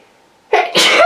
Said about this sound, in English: I think I'm going to sneeze, bear with me.